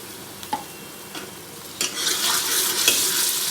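Chopped onions with ginger garlic paste sizzle softly in a pan, with a few stirring scrapes and light clinks, the frying growing louder toward the end; no talking.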